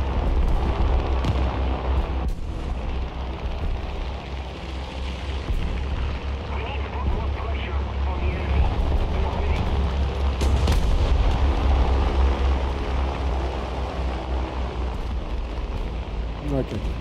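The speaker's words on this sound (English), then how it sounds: "Bombing." Heavy bombing explosions in a combat video game with tanks, planes and boats, a dense continuous roar of booms and rumbling blasts running loud throughout, with game noise layered over it.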